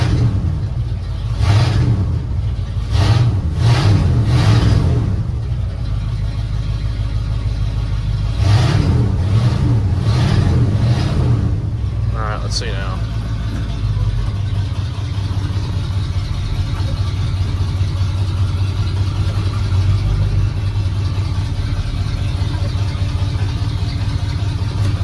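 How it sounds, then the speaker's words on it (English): A 1978 Ford F100 truck engine revs in two bursts of three or four throttle blips each, then settles into a steady idle with a short mechanical squeak in between; no talking. "give it gas, the whole truck moves"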